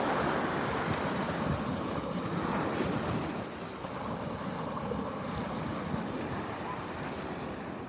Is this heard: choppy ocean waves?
yes